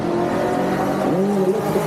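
A 1970 Chevelle launching at a drag race, its engine roaring loud and close with a rising, droning pitch through the short burst, no talk over it.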